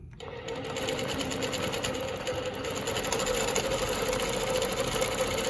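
A longarm quilting machine stitches a Baptist fan pattern at a slow, steady pace, its rapid needle chatter and motor hum running continuously and close up throughout.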